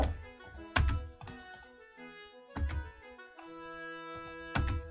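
Spacebar and Enter keys are pressed on a computer keyboard while working in AutoCAD, making several sharp, close clacks at irregular intervals over quiet background music.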